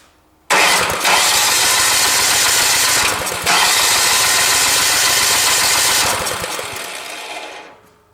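A small snow blower engine cranks and runs on its starter for several seconds, a loud, buzzy, steady mechanical whir that pauses briefly midway, then winds down and stops, with no talking.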